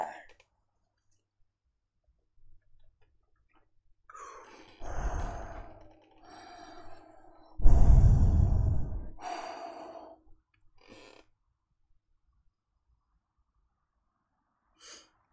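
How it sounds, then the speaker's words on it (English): Heavy breathing from a streamer: a few loud, rough breaths and sighs, the strongest in the middle, with quiet gaps between them and no speech. "Who's breathing heavy? Like, apparently me."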